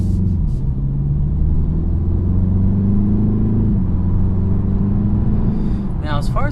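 A 2019 BMW 330i four-cylinder engine holds a steady low hum and drone while driving, continuous and moderately loud, with a faint short chirp near the end.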